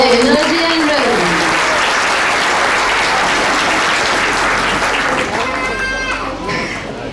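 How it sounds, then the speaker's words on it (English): Loud, sustained applause from a school audience after a kindergarten dance performance at an expression day event, a dense wash of clapping with children's voices and chatter mixed in. "Please give all of the fantastic performers a big round of applause for their energy and rhythm."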